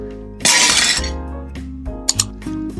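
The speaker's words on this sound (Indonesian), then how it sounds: "Tiba-tiba ada suara piring cukup kencang dari dapur." Plates clatter and crash loudly in a kitchen during dishwashing, a sharp ceramic burst followed by clinks and scraping knocks, with no talk.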